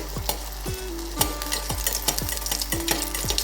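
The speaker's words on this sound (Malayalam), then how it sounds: "ഇനി നമുക്ക് ഇതിലേക്ക് ഓരോന്നിട്ടിട്ടൊന്ന് ഫ്രൈ ചെയ്തെടുക്കാം" Egg and bread snacks fry one at a time in hot oil with a constant crackling sizzle. Soft clinks and scrapes sound over a steady low hum, and no voices are heard.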